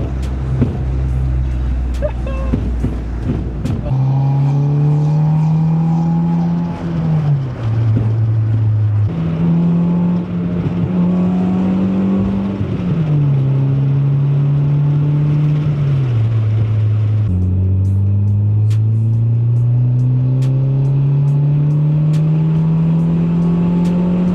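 Honda Civic with a stainless steel exhaust line driving, a steady engine drone rising through each gear and dropping at shifts, loud inside the cabin with a voice talking over it.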